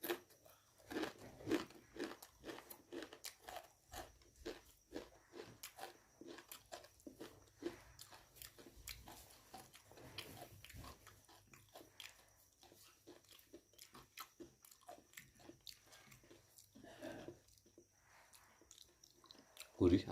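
Crispy fried tempeh chips (mendoan) made with flour batter are chewed close up, giving repeated crunchy bites and crackles throughout, with faint background noise and occasional soft voices.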